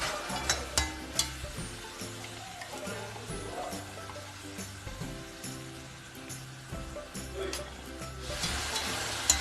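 Chopped tomatoes and onions sauté in a pan for Indian-style vegetable macaroni, giving a soft, steady sizzle with light crackles while a voice speaks faintly over it.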